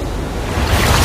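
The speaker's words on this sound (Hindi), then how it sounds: "ओके, ये आई बड़ी लहर।" A big ocean wave surges in and breaks against slippery rocks beside an island, a loud broadband rush of water and spray that swells toward the end with wind buffeting the microphone.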